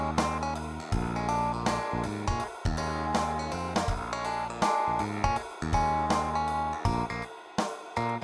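Music with the midrange pushed up by an equalizer boost, giving a forward, nasal character over steady rhythmic notes and bass, playing alone without any voices.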